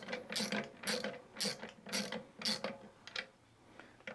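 A 1/8 hex wrench runs a fastener in with a rhythmic series of close, crisp ratcheting clicks, about eight evenly spaced bursts, quiet and alone.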